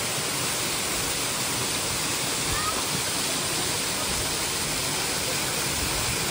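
A mountain waterfall near Darjeeling sends a loud, steady, continuous roar of rushing water that fills the whole clip without a break.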